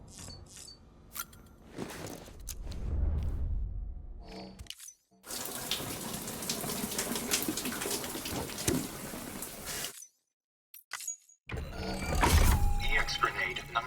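Shower water runs in the video game Death Stranding, a broad hiss of spray that stops and starts in long bursts with brief silent gaps between them.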